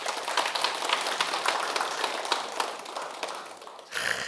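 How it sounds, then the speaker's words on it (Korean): An audience at a talk breaks into steady congratulatory applause, dense continuous clapping from many hands that fades slightly before ending. "우리 축하 박수 부탁드립니다"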